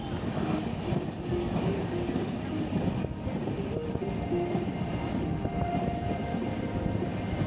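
The Saraighat Express running between Bamunigaon and Chhaygaon stations, a continuous loud rumble and rattle of wheels and carriages heard from inside the moving train, with faint tonal squeals and muffled voices underneath.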